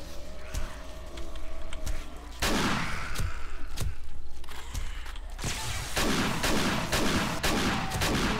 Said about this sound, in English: I still think this shotgun will work